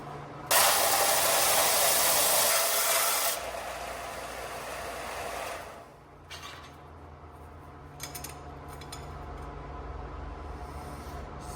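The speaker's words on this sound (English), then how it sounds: "why are you putting gloves on when you're gonna use a belt sander?" A belt sander grinds loudly against metal in a garage during work on an LS-swapped Nova, then drops to a lower, steadier whir as it runs on.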